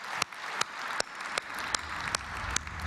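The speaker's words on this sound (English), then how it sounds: "Give a big hand of applause to Christopher." Applause at a CES 2012 keynote heard faintly over a hiss, with a few distinct claps ringing out at roughly regular intervals rather than a full roar.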